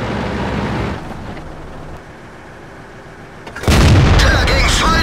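A tank gun shot lands in World of Tanks with a sudden loud, heavy boom after a quieter stretch of rumbling ambience, and its blast carries to the end.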